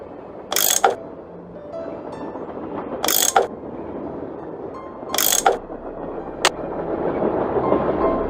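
A tool works at bolts in the Nancy Drew video game, producing three sharp ratcheting mechanical bursts spaced a couple of seconds apart, then a short click, over a low background hum.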